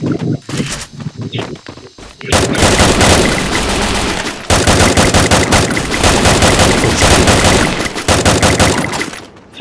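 A shooting video game fills the scene with rapid, loud automatic gunfire: scattered shots at first, then long dense bursts of fire, with faint talking in the background.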